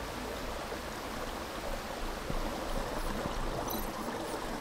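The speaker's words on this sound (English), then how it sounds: "Water is flowing too fast now." Fast-flowing water rushes in the Tales of the Neon Sea video game, with the waterwheel mechanism set running. It is a steady, dense, moderately quiet wash of noise with no pauses.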